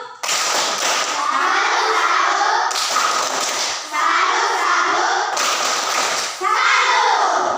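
Schoolchildren in a classroom perform a rhythmic clapping salute, bursting out in three dense, loud rounds of quick claps separated by brief pauses, with young voices chanting along.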